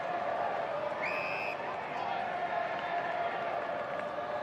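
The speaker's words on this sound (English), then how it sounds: "Freo chant ringing around Domain Stadium" Fremantle supporters chant in a large crowd at Domain Stadium during an AFL match against Port Adelaide, forming a steady roar of voices with a commentator talking over it.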